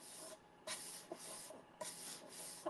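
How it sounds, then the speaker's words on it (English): Repeated scratchy rubbing strokes of sandpaper across a surface, a steady abrasive hiss with sharper bursts at each change of direction, close and fairly quiet. "So I am just sanding it across"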